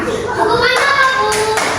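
Children clap their hands during a classroom clapping game, a short burst of sharp hand claps close by with a lively room and young voices around it.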